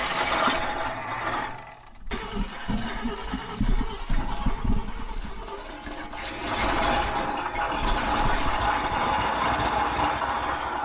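A flooded Ford F-100 pickup engine cranks in rapid mechanical bursts, cuts out briefly, then catches and runs rough with loud uneven churning, close to the microphone, no clear talk over it.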